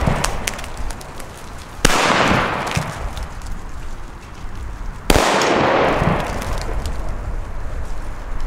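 Old-school Fire Event 1960 D firecrackers blast twice, each a sharp, powerful nearby bang that rolls into a long echoing rumble, with faint crackles in between.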